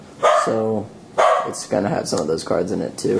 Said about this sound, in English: dogs here, they're going a little crazy.